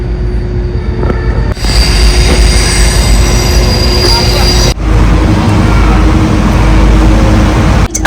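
A train rolls loudly over a railway bridge in Berlin, wheels squealing and rumbling continuously at close range, with brief breaks in the roar as it passes overhead.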